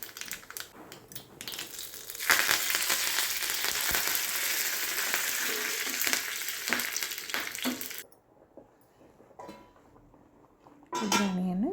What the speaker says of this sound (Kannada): ಆಮೇಲೆ ಒಗ್ಗರಣೆಗೆ ಸ್ವಲ್ಪ ಎಣ್ಣೆ ಮತ್ತು ಜೀರಿಗೆ, ಸಾಸಿವೆ